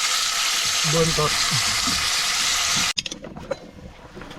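A pot of fish stew bubbles and sizzles loudly and steadily, then a sharp clank cuts in, followed by quieter simmering with a few knocks.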